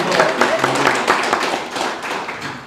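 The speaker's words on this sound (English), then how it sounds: "can we give a big round of applause for that?" An audience at a youth symposium gives a round of applause for a student's artwork, a brief, fairly loud burst of many hands clapping together, with faint voices mixed in.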